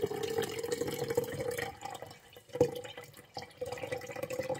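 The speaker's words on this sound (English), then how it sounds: "I'm going to just pour this right through there. That way it'll get my petals as the liquid strains through." Dandelion petal liquid is poured through a strainer screen, a close, continuous trickle and splash of water with brief drips as the flow tapers.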